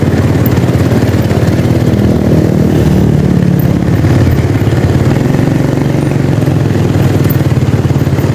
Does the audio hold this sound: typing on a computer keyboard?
no